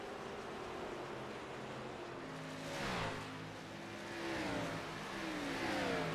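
Race car engines roar around the Phoenix oval in a sim racing game, layered pitched whines rising and falling as cars pass, fairly faint and steady with no voices.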